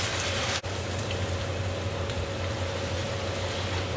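Chopped ingredients frying in hot coconut oil in a kuali for kaffir lime chicken, a steady, dense sizzle like heavy rain that holds close and loud throughout, with one brief dip early on.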